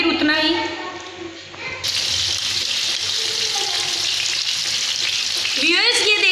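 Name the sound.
chapli kabab patty frying in a pan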